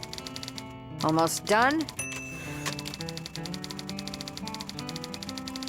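In the video game Thimbleweed Park, a typewriter clatters with rapid keystrokes and sharp carriage sounds, while a character's voice briefly speaks over the start of the typing.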